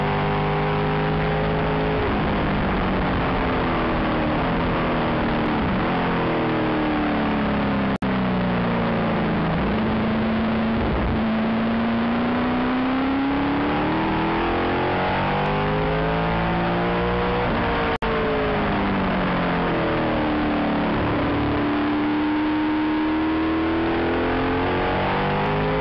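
F5000 race car engines roar around a circuit at the Lady Wigram Trophy, loud and continuous, with pitch rising and falling as cars rev, brake and pass close by through the hairpin, with no talk.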